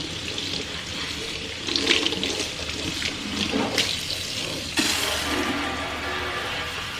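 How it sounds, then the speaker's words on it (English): Tap water splashing hard over a paint-stained surface as it is rinsed down, a close, steady gush whose splatter shifts and briefly surges midway. "Let's rinse it down."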